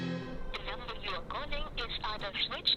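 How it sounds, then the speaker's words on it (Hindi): A telephone rings in a Hindi-dubbed film scene, heard faintly beneath continuous male conversation throughout the short stretch. "ये रविंद्र फोन क्यों नहीं उठा रहा?"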